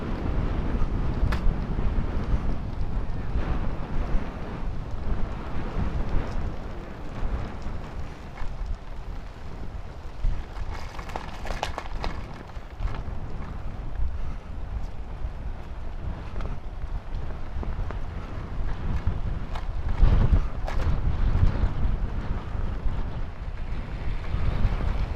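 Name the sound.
strong wind blowing on the microphone during a ride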